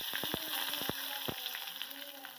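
Curry leaves hit hot oil in a tempering along with mustard seeds, cumin, asafoetida and turmeric, throwing off a burst of quick sharp crackles and pops over a continuous hiss that settles into a softer sizzle.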